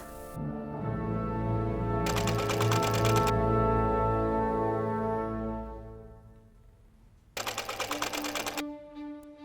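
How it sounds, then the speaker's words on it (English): A sewing machine runs two rapid bursts of stitching for buttonholes on a top and mini skirt, a fast mechanical rattle over a steady tonal hum that rises and fades between the bursts. "sew those 2 buttonholes like your life depends on it"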